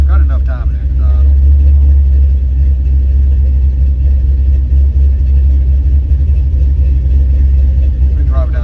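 A Chevrolet C10 engine being tuned with a Holley setup runs loud and near, with a heavy, steady low rumble and a faint voice over it.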